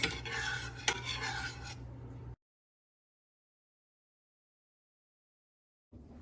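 Couscous stirred in a pot with a spoon, giving a close scraping and rustling for about two seconds before the sound drops to silence.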